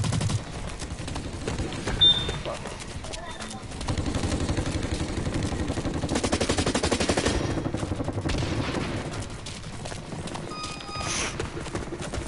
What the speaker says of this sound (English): I got a assault rifle.